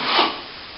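Scraper rasping back damp-damaged paint on a plaster wall, one short close scrape that swells and then fades into a softer drag.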